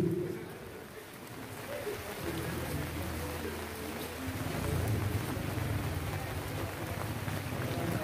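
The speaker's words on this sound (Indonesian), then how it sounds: "walaupun diiringi hujan rintik-rintik kedua pemain tetap semangat" Light drizzle patters steadily at an outdoor village volleyball tournament in cold, bad weather, a soft continuous hiss with a low rumble of background noise throughout.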